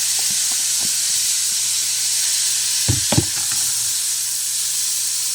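Diced onion and minced garlic sauté in butter in a pan, giving a steady, close sizzle and hiss throughout, with a few brief utensil clinks and stirring scrapes partway through.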